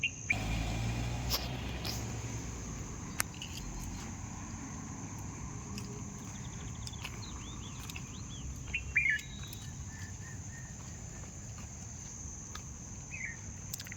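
Birds chirping over a five-acre rice paddy plot in hilly countryside, scattered faint calls heard at a distance against a steady insect drone and light outdoor ambience, with one brief clearer chirp near the middle.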